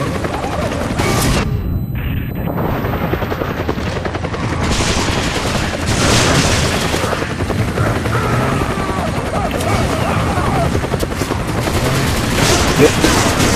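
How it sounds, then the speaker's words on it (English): Video game gunfire from Resident Evil 5's versus mode on a ship deck, rapid bursts and shots overlapping with a dense battle din, under a player talking. "I can hear gunfire."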